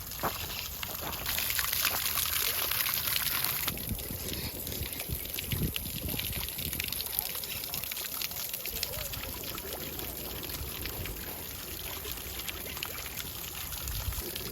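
Water pouring and splashing continuously from a garden fountain dating from 1742 in a botanical garden in Rome, Italy, a loud steady rushing stream with no voices over it.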